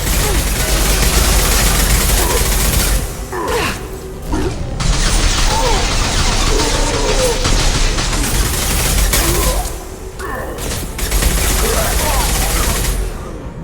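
Heavy automatic gunfire and clattering mechanical weapon noise during a Mass Effect firefight, loud rapid volleys with short breaks, voices briefly calling out between bursts.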